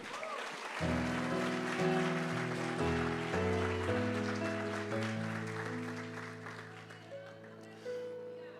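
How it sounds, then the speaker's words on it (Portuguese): Congregation applause fills a church service as a broad, even patter of clapping, layered over sustained keyboard chords that swell and shift underneath. "Cabe um aplauso para Jesus aí."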